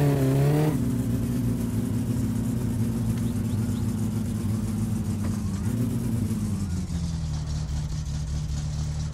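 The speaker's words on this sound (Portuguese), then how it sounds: "Vou fritar pneu até umas horas aqui" A car in My Summer Car does a tyre burnout: the engine holds a loud, sustained high-revving roar for several seconds, its pitch dipping and rising slightly while staying strained and close.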